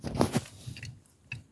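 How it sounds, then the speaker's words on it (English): Biting into a cinnamon toast vegan donut gives a few soft, close crunches and chews, quiet and brief, with no talk. "I'm actually going to eat this donut or eat these donuts"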